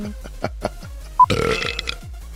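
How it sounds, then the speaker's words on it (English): One loud, rough belch erupts close up, lasting about half a second, between softer sounds. "It has nothing to do with how good my belch sounds"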